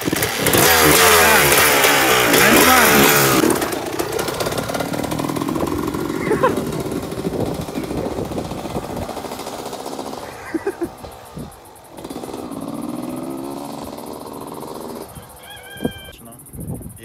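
A motorcycle engine revs loudly up close and then drops back as gears are shifted with the clutch, rising and falling in bursts, while people talk over it.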